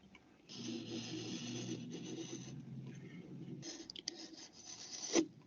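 A pencil compass presses firmly as it traces a circle on paper, giving a steady, close scratching rub that runs for several seconds with brief pauses and ends in a sharper scrape.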